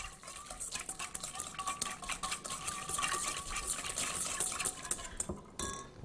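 A whisk clinks rapidly against a bowl as an olive oil and basil dressing is beaten, giving a quick, steady metallic tapping that stays close and fairly quiet.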